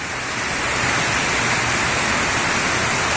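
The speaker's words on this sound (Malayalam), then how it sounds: "ചെറുവനത്തിലൂടെ ഒഴുകുന്ന ഒരു വെള്ളച്ചാട്ടമാണിത്" Venmattam waterfall near Thommankuthu in Idukki, Kerala, pouring through a small green forest: a loud, steady, unbroken rush of falling water fills the whole stretch, with no voices.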